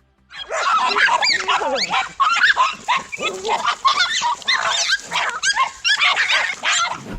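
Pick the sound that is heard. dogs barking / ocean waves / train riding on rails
dogs barking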